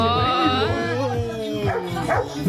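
A dog barks and yips repeatedly at close range while a person talks over it.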